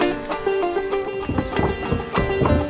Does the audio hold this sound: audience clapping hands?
no